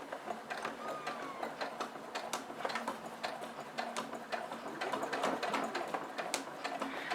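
A sewing machine runs slowly along a seam on a fabric pyramid pouch with the stitch lengthened to 3.5, making a steady, close rhythmic ticking and whirring with no talk over it.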